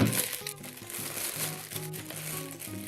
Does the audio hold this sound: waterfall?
no